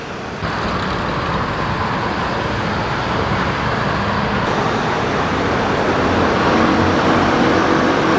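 Dense city traffic in Taipei rumbles continuously, cars and scooters passing at red lights in a broad, steady roar that swells slightly toward the end, heard from the roadside with no voices.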